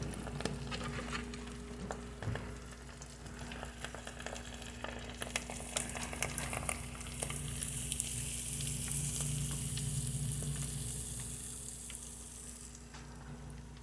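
Mozzarella cheese sticks frying in oil, a continuous crackling sizzle with scattered pops, steady and fairly close, with a low background hum.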